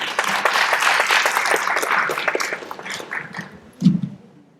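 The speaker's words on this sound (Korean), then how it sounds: "큰 박수로 정은상 교장님 모셔보겠습니다" A lecture audience breaks into dense, sustained applause to welcome a school principal giving a talk on personal branding through social media; the clapping gradually thins and fades, ending in a single louder thump.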